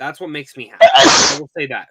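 One loud, close sneeze bursts out in the middle of a conversation, with people talking just before and after it.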